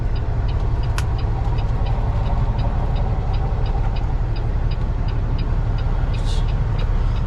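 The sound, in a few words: car passing by a truck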